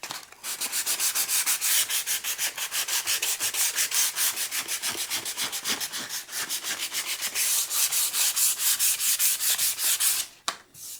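A Johnny Ramone-style guitar neck is sanded by hand with quick, rhythmic back-and-forth strokes, a close, scratchy rasp repeating about four times per second before briefly stopping near the end.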